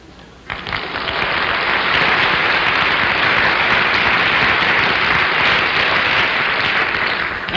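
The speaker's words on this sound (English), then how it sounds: "Did you like the applause?" A television studio audience on a panel game show breaks into loud, sustained applause that swells suddenly and holds as a dense wall of clapping for several seconds, with no talking.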